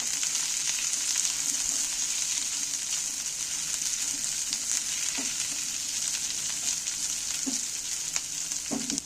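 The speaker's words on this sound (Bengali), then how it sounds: "এইবার পেঁয়াজগুলো এই তেলের মধ্যে আর রসুনের মধ্যে এইবার নাড়াচাড়া করে ভেজে নেব" Chopped onions frying in hot oil with garlic, a steady close sizzle throughout with occasional scrapes and clinks of a spoon stirring, no voices.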